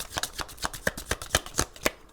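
Playing cards are laid down one after another during a card reading, a quick run of about ten crisp, evenly spaced snaps close by with no talk.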